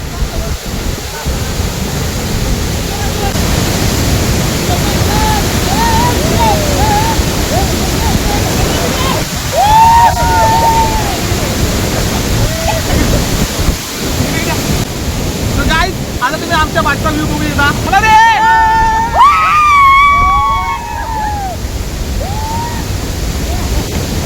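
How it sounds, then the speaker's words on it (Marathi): Ranpat waterfall crashing as a steady, loud roar of falling water with wind buffeting the microphone, while people talk and call out over it throughout. "वॉटरफॉल जबरदस्त एकदम व्ह्यू"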